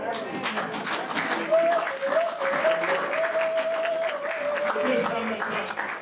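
A church congregation applauds steadily throughout, a dense wash of clapping with voices and a sustained sung or called tone rising above it.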